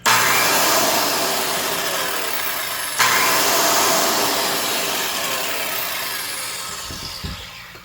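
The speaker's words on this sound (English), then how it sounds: "It's a 5800 RPM, 15 amp SideWinder circular saw with the right hand blade." Mid-to-late-2000s Ridgid R3200 SideWinder circular saw, 15 amp and 5800 RPM with a right-hand blade, running free twice: a loud whining motor spin-up that slowly winds down, then a second trigger pull and coast-down with a few clunks at the end.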